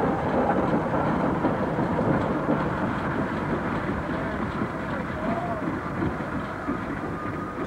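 A steam locomotive works along an Indonesian rack railway with a continuous rumbling, rattling roll and faint rhythmic clatter, with a voice talking over it.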